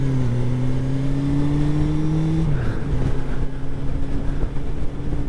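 A Kawasaki GPZ750 motorcycle accelerates hard uphill on a road racing course, its engine note a steady rising drone that dips sharply midway before picking up again, loud and close.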